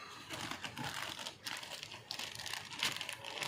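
A paper envelope crinkles and rustles in close handling while a Goot RX-802AS soldering station is unboxed, soft irregular crackles without speech.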